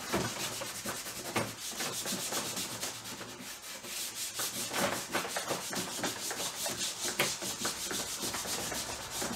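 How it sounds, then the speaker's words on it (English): Indian red paint rubbed by hand onto a painting's ground layer: a steady, close, scratchy rubbing texture with repeated strokes running continuously and no voices. "Dab that into my Indian red and just start to rub it on."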